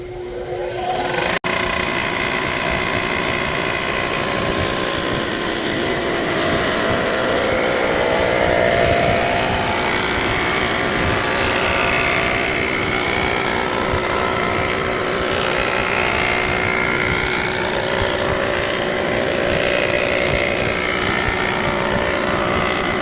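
A milling machine makes a surfacing pass across a Dodge 2.4 cylinder head, a loud, steady mechanical roar with a grinding cutting texture that holds for over twenty seconds without pause.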